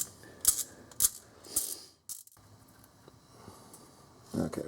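A ratchet drives a bolt into a 5.7L Dodge Ram engine during a water pump job, producing several crisp, close clicking pawl bursts in quick succession, then a pause and a final short clatter.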